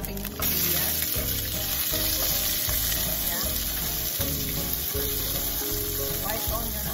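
White onion frying in cooking oil in a pan for chicken curry, a steady loud sizzle throughout with occasional stirring scrapes, no talking.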